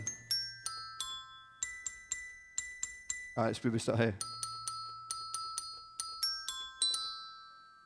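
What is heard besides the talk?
bells struck by robots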